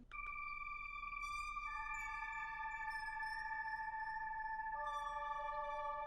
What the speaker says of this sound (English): we're gonna throw this basic pad on top of it